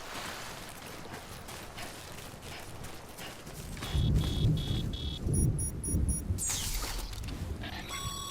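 Timefall rain and rolling thunder in the Death Stranding game, a steady wash of rain under heavy low rumbles that swell midway, mixed with bright electronic chimes and game sound effects.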